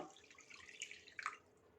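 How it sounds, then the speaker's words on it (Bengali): Half a cup of water trickles and drips faintly into a prawn masala in a pan, with a few soft splashes over a quiet background. "এবার দিয়ে দেব 1/2 কাপ জল"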